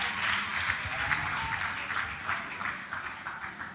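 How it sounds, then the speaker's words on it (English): Audience at a secondary school agricultural debate gives the student debaters a round of applause, a moderate, steady patter of many hands sustained throughout at mid distance. "Let's give them another round of applause"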